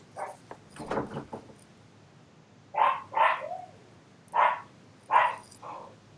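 Several sharp dog barks ring out in spaced bursts, first a quick cluster of yips and then four louder, separate barks with a short whine, close by and alone without talk.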